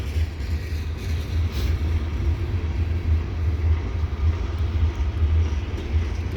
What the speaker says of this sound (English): this train's gonna struggle. He's in the heart of the grade.